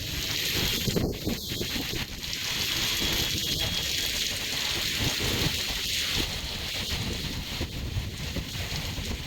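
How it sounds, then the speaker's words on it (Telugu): Heavy evening downpour in Hyderabad during a thunderstorm, a dense continuous roar of rain on surfaces with gusty wind rumble and low thunder underneath, steady for the whole stretch. "పొదుముకి ఫుల్ వాన అంటే ఫుల్ వాన"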